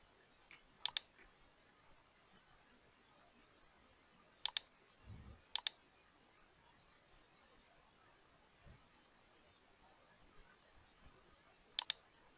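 A few sparse, crisp clicks of typing on a computer keyboard during CAD drafting work, quiet and scattered in two short groups with long silent gaps and faint low thumps between.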